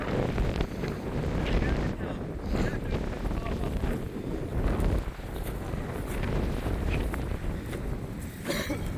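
Strong wind buffets a microphone outdoors, a constant loud rumbling roar with gusts throughout, while people talk faintly underneath.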